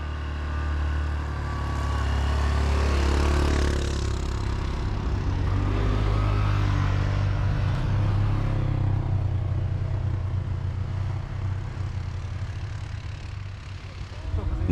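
Several snowmobiles ride in a triple line along a packed snow track on a remote trip, their engines blending into a steady, droning rumble that swells and then slowly fades as the machines pass.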